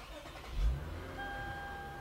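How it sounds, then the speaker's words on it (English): A car engine cranks and catches with a brief low burst, then settles into a steady idle hum with a faint whine, heard close and without talking. "All you have to do is start your car"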